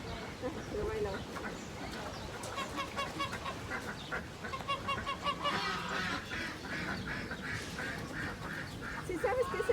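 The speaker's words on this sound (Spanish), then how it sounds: "¿Sí sabes que ese es pato y ese de allá es ganso?" Ducks and geese honking and quacking at a park in Philadelphia, Pennsylvania, a steady chorus of repeated calls nearby while people talk over them throughout.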